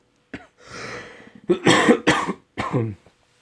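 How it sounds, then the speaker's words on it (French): A person with a cold coughs several times close by, harsh bursts with a wheezy breath in between, no talking. "je suis enrhumé et je tousse beaucoup"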